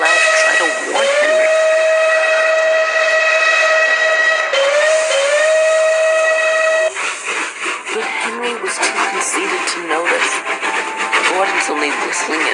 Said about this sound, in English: He blasted his whistle loud to try to warn Henry.